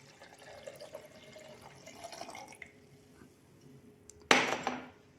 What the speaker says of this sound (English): Now I will pour this distilled water in the pre-weighed 14 grams of the nutrient agar